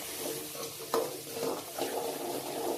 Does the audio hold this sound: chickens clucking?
no